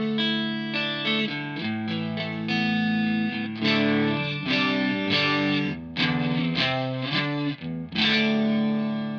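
Electric guitar played through a Mojo Mojo overdrive pedal, a run of overdriven chords and notes with gritty sustain and frequent strums, loud and continuous throughout with no talking.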